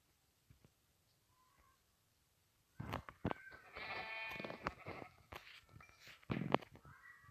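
Sheep in a survival video game bleating in a few nasal, wavering calls after near silence, moderately loud and close, with a final short bleat near the end.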